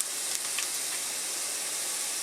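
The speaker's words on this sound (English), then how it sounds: "Okay, so you can see it's sizzling." Oil and vegetables hiss steadily in a frying pan on the stove, a constant bright sizzle close by with no voices.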